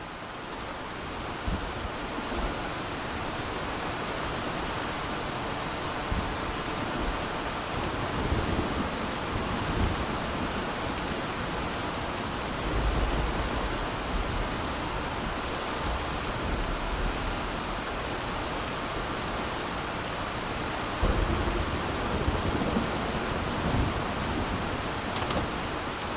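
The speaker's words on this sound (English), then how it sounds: "my new way of generating completely random soundtracks" Generated rain soundtrack from the game SCUR: steady, dense rainfall hiss filling the whole stretch, with occasional low rumbling swells and rustling, continuous and fairly loud without any speech.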